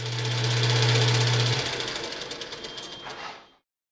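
A Logan lathe, model 2557TH, running at high speed while cutting a part with a slow feed, a steady mechanical whir with a low hum that drops away partway through, then winds down and stops.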